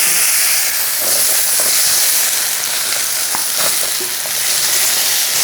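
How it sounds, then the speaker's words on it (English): Starchy pan-fried potatoes sizzle steadily in a cast iron skillet, a dense continuous hiss with occasional pops and crackles, close and loud throughout. "Do these pan-fried potatoes"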